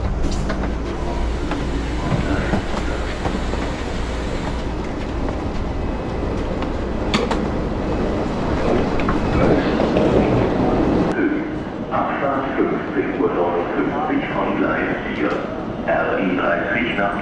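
A train near Frankfurt, Germany rumbles along the rails with a steady mechanical roar and rhythmic clatter, shifting in tone partway through, heard from inside the carriage.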